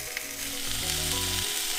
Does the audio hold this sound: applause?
no